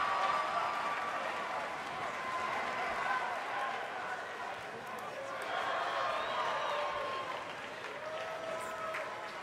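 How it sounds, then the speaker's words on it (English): An arena crowd at an NXT UK wrestling event roars and applauds continuously, a dense sustained wash of cheers and claps, with an announcer talking over it throughout. "Listen to this crowd, guys. They're fired up for this one."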